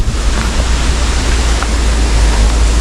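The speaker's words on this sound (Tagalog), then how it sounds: "Malamig yung simoy ng hangin mga silo." Wind blows as a cool breeze at dusk in a rural copra-harvest area, a steady, broad rushing noise like surf that stays loud and constant, with no voices.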